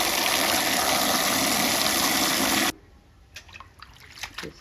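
Dried shrimp being washed in a bowl of water: a loud, steady rush of running water for about three seconds, then quieter splashing, swishing and small drips as the shrimp are rinsed by hand.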